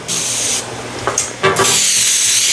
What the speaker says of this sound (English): Now I'm going to go ahead and spray the pan.